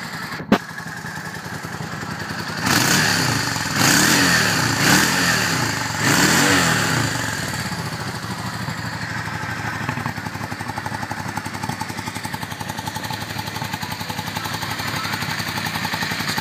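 A 2003 Yamaha V-Star Classic touring motorcycle idles steadily close up, its engine thumping in an even, slightly uneven-lumpy rhythm, with a few louder revs early on before settling into a constant idle.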